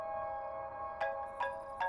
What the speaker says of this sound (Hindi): अरे बाप रे, सुलोचना का फोन आ रहा है